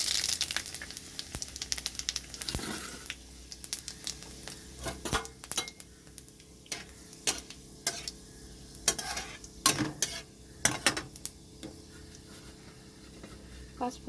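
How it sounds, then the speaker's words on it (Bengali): Panch phoron and dried red chillies crackle in hot mustard oil in a pan, giving close, scattered pops and sharp ticks with occasional stirring scrapes over a low hiss, irregular and intermittent throughout. "কড়াইতে সর্ষের তেল দিয়েছি, তেলটা গরম হয়ে গেছে। এখানে দিয়ে দিচ্ছি 5 ফোড়ন আর শুকনো লঙ্কা।"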